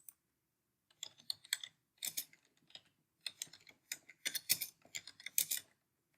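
An address being typed on a computer keyboard, with quiet, close key clicks in short uneven bursts separated by brief pauses, set against an otherwise silent room.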